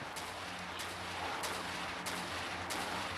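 Gunfire in the video game Dungeon Shooter, a rapid stream of small shots with sharper bursts recurring about every half second over a constant busy game background, moderately faint.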